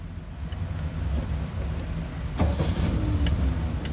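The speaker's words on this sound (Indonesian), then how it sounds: "Iki wis nyala mobil rek." An old Ford Laser sedan's engine turns over and catches, a low rumbling idle followed by a sharp mechanical clunk and a slightly louder, steady running engine up close.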